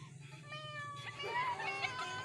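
During a classroom game of acting out animals, a child imitates a cat with a drawn-out, wavering meow over steady low background hum.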